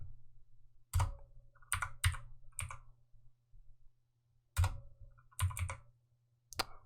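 Computer keyboard typing during 3D modeling work, heard as several short bursts of clicky keystrokes separated by pauses, close and fairly loud over a low steady hum, with no talking.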